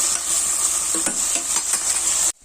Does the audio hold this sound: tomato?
yes